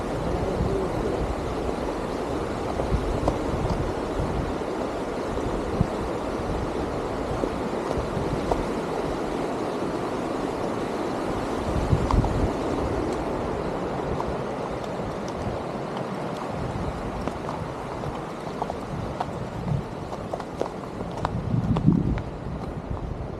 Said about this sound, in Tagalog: Tunog ilog.